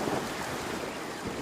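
Heavy rain and rushing flood water in a cartoon jungle make a steady, even roar of broadband noise with no voices over it.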